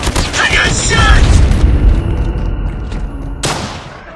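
Video game firefight with loud booming gunfire and bursts, a sustained barrage through the first half, then a sharp blast near the end, with voices talking over it.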